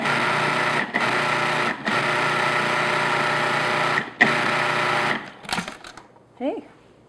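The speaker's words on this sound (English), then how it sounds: "If you have a food processor, I say use it." A food processor whirs loudly and steadily while pureeing strawberries, pulsing in a few long runs with brief stops, then winding down, followed by a short spoken remark.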